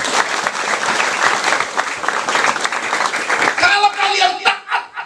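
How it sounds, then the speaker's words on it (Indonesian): A church congregation breaks into loud, dense applause at a sermon, many hands clapping together close by, then thinning into a few scattered claps and faint voices as it fades out. "Tepuk tangan untuk Tuhan Yesus."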